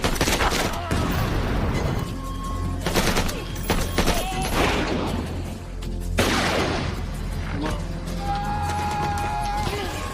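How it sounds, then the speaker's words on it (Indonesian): Dense gunfire in a film shootout right after a car explosion: rapid bursts of shots and booming impacts crowd together, loud and close, with little pause over ten seconds. "Hal itu pun membuat aksi tembak-tembakan terjadi"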